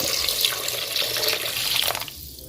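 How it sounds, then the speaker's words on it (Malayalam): Water pours in a steady splashing stream into a cooking pot holding chicken for chicken vegetable soup, running close and continuous for about two seconds before cutting off. "വെള്ളം ഒഴിച്ച് കൊടുക്കാം."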